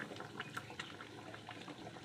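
Fish curry with mango bubbles gently in a pot, a soft, quiet burble of popping bubbles continuing throughout without talk.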